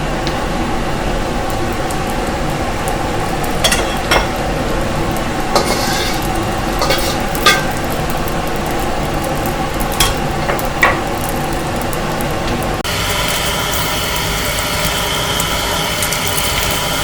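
Eggs are stir-fried in hot oil in a pan for pad see ew, giving a loud, steady sizzle with frequent scraping and clanking of a utensil against the pan, close up and continuous, with no talking.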